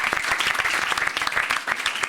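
A studio audience on a French talk show claps for police and gendarmerie, a brisk, fairly close burst of many hands with uneven sharp claps throughout.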